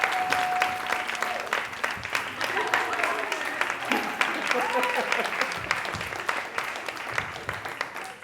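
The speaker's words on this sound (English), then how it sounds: "So please, can you all give a round of applause?" Audience applause at a conference talk, many hands clapping in a continuous dense stream for several seconds, with a few voices and cheers audible beneath it.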